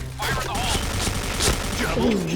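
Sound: gunfire from Racamo gun in video game Point Blank

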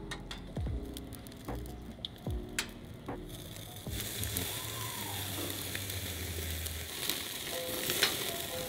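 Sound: chicken sizzling on the grill

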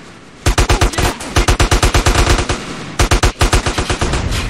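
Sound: gunfire in the video game GTA San Andreas

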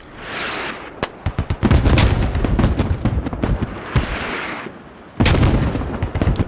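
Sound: grenade explosions in a video game (Squad)

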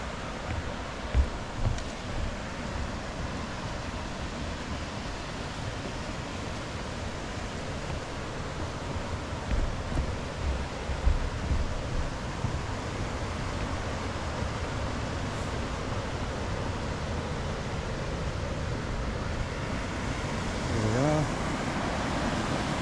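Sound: water of Ellenborough Falls waterfall

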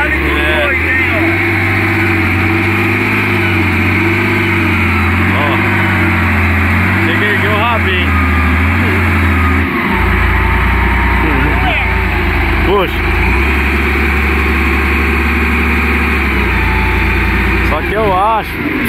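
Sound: engine idling while testing Michigan pump pressure

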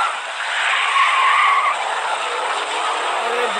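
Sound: car driving off and skidding in a video game

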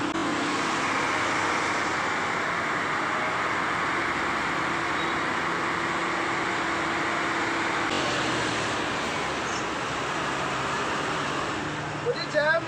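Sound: traffic jam outside a slowly moving car

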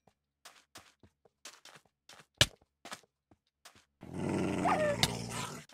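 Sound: dog growling

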